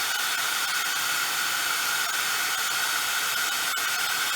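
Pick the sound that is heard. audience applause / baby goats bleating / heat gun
heat gun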